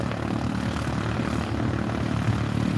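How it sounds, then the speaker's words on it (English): A propeller aeroplane drones steadily at Moorabbin Airport, a continuous low engine rumble close and loud throughout with no talking. "There's an aeroplane."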